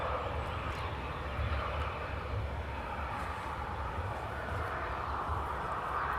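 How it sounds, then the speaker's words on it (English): A TAP Air Portugal airliner taxiing out at Manchester Airport gives a steady, low engine rumble and broad roar that holds at an even level throughout, fairly distant, with no voices. "Air Portugal taxiing out."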